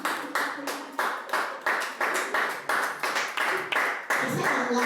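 Congregation at a Thursday church teaching service clapping in a steady rhythmic beat, loud and close, with repeated unison claps about three per second and singing or voices underneath throughout.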